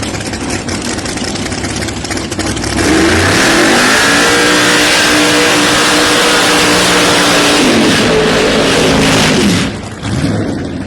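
A Pro Nitrous drag racing car at a PDRA drag strip revs hard, its engine rising to a loud, sustained roar for several seconds, then dropping off sharply as it cuts back.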